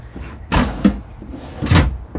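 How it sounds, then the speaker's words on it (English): A few soft wooden thuds and sliding knocks as a soft-close drawer in a Jayco Northpoint fifth wheel RV is pushed shut, close by, with no speech. "Soft closing drawers."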